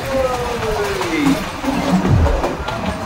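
A train rolls along the tracks with a continuous rumbling rattle and occasional clanks, while a falling whine sweeps downward and voices talk faintly over the noise.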